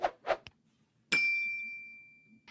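Notification bell ding sound effect, a single bright metallic chime ringing out and slowly decaying after a few soft clicks, clear against near silence.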